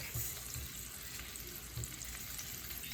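Onion hits hot oil in a frying pan and sizzles with a faint, steady hiss and crackle, broken by a couple of soft low thumps from the pan, heard alone without talk.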